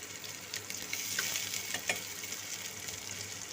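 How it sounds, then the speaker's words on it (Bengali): Finely chopped onion with ginger-garlic paste frying in a pan for bhindi do pyaza, a close, steady hissing sizzle with faint stirring scrapes throughout. "আর দিয়ে দিচ্ছি গোটা গরম মশলা দারচিনি আর বড় এলাচ দিয়ে একটু ভেজে নেব পেঁয়াজগুলো নরম হওয়া পর্যন্ত"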